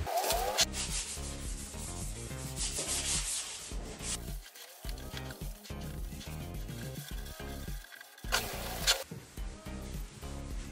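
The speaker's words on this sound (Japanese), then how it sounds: "今日午前中やって乾いたんでね、ちょっとペーパーで削ってもう一回シルバーにします" Sandpaper scraping painted wood on a speaker enclosure before repainting, in repeated back-and-forth strokes with brief pauses, close and clear against a quiet background.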